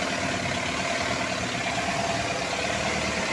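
A freshly overhauled C240 diesel engine idles just after starting, a steady, even rumble with a fine knocking texture, close and continuous with no talk.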